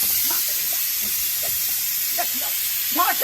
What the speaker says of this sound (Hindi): कुकर फुफुआ जाय है